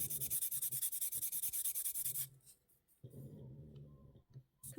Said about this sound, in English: get your nail buffer or some fine sandpaper and give it a little touch up